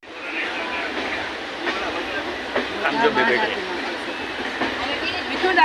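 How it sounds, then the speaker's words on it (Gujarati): Inside a crowded local train at Dombivli, a steady rumbling rattle of the moving carriages carries on with faint clattering of wheels, while people talk nearby over the noise. "અમે બધા બેસી ગયા છીએ ટ્રેનમાં"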